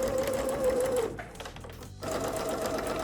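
A sewing machine runs fast and steady, stitching fabric pieces for a school satchel, pausing for about a second before whirring on again, close and clear with no talking.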